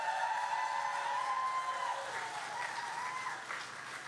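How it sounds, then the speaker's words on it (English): A crowd applauds steadily for several seconds, the clapping dense and even before gradually thinning out. "Can you give him a big round of applause?"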